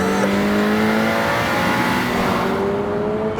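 A 2022 Toyota GR86 engine and exhaust revs steadily with a sustained, slightly rising drone, loud and close throughout with no talking over it.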